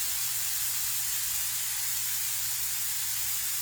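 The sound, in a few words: olive oil being added to peppers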